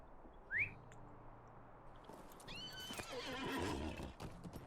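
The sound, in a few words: horse being called, neighing, in Lord of the Rings Online video game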